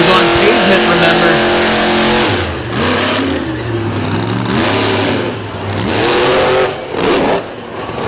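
Monster truck engine at a monster truck show, driving on a flat tire with the rim grinding, roars loudly, its revs rising and falling in several surges, with a few brief drops between bursts.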